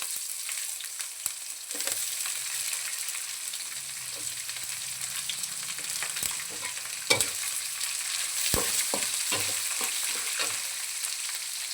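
Chopped onions fry in a pan for upma, a constant sizzle broken by scraping stirs and spoon taps, with no talk.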